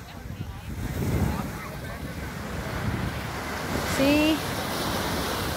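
Ocean waves wash onto the beach at Nassau, Bahamas, a continuous surf rumble with a swell near the middle, mixed with wind buffeting the microphone while a person speaks briefly.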